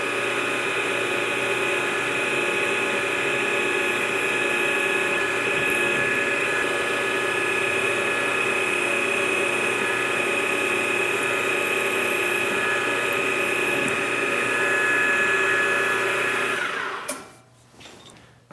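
Steady, loud machining whine from a PM-940 milling machine drilling into a workpiece, running continuously for about seventeen seconds before winding down at the end, with no talking.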